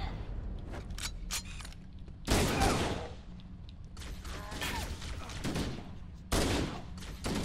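Gunfire in the video game Halo: MCC, a few sharp close shots and bursts of automatic fire breaking out in clusters over a low background of game noise.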